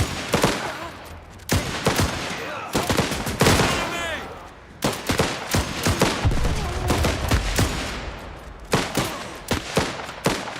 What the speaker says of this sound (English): We are shooting off a lot of ammunition.